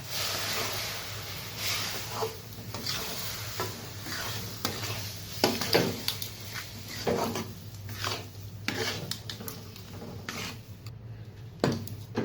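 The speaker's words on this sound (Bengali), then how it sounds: "তো ভালোভাবে নাড়তে হবে" Rice flour stirred into water in a pan, a steady scraping swirl with soft sizzling and occasional clinks of the spoon against metal, close and continuous for the whole stretch.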